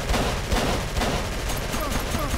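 Gunfire striking the player in the video game Call of Cthulhu, a dense rapid volley of shots and impacts, loud and close, continuing throughout without pause.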